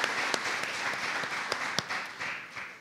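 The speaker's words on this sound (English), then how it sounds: "Let's give her a round of applause as well" Steady applause from an audience at a city State of the City address, dense clapping sustained throughout with a few sharper claps standing out.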